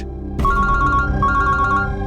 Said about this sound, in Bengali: আমি একটু ফোনটা ধরি।